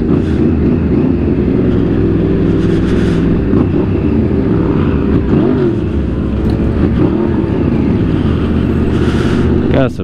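Motorcycles, including a cruiser, rev and roar as riders pull wheelies at a street riding meet in Houston. There is a loud, continuous engine drone with rising revs, and people talk over it.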